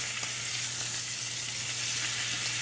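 Steak sizzling steadily in a hot pan on a burner, a dense continuous frying hiss with a low steady hum beneath and no voices.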